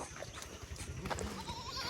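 Goats bleat at a crowded bakra mandi livestock market in Mirpurkhas, a few wavering calls over dense background crowd noise and chatter.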